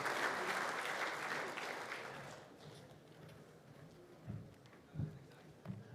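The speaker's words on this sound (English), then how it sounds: "how about a little bit of extra applause for the guys from Auckland AFC" Applause from a luncheon crowd at the North Harbour Club, loud at first and then fading over a few seconds into scattered claps and room murmur.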